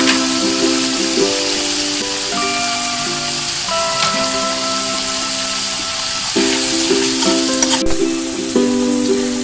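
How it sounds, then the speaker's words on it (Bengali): Ground spice paste with salt sizzles steadily as it fries in a pan for a chhena kofta curry, a continuous hiss heard under background music. "মশলাটা দিয়ে ভালো করে কষতে হবে।"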